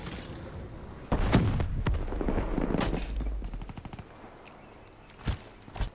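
XR2 rifle gunfire in Black Ops 3: bursts of rapid automatic shots and sharp cracks, with a heavier boom near the end, loud and close.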